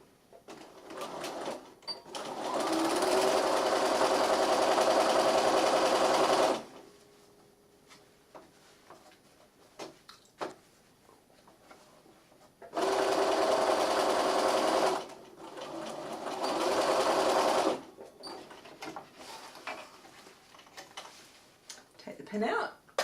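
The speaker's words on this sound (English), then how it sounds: "I'm going to stitch along that white line, and this is going to enable us to have boxed corners on our bag" A home sewing machine runs in two long continuous bursts, stitching along a marked line to box the corners of a reusable fabric shopping bag, with quieter handling noises between the runs.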